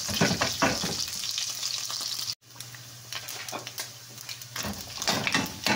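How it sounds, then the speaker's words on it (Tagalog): Chop suey ingredients sauté in their own oil in a pan, giving a steady close sizzle and crackle with occasional stirring scrapes and a brief cut partway through. "Gisa natin sa sariling mantika."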